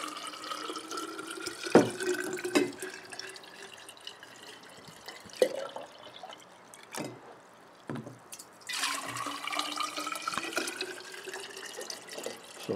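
Hydroponic nutrient solution is poured from a one-gallon plastic milk jug into a clear glass jar, giving close gurgling, splashing liquid with uneven surges and brief drips, no talking.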